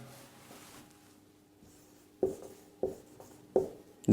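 Chalk or marker writing on a board during a Class 12 physics lesson on wave optics and fringe width, faint scratchy strokes ending in several sharp taps spaced about half a second apart, close and alone without speech.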